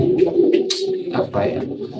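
A pigeon coos in a low, rolling murmur, close and fairly loud, joined by a few brief higher chirps from nearby birds.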